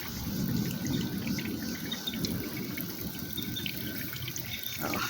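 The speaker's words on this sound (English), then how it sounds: "From can 1, you see it dripping into can 2." Water trickles and splashes steadily through a homemade garden rain chime of stacked cans, dripping from one can into the next outdoors, a continuous close liquid patter with faint metallic ringing.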